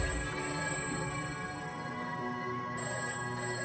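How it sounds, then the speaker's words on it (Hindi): A telephone ringing with a steady electronic tone, fairly faint and continuous, with no voices. "तुषार को फिर से उस टेलीफोन के बजने की आवाज आई"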